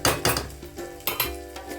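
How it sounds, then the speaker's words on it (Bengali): A spatula scrapes and clinks against a pan while chicken is stirred and sautéed for chicken ghugni, several sharp metallic knocks in quick, uneven succession, close and fairly loud. "ভালো করে কষাতে হবে চিকেনটা।"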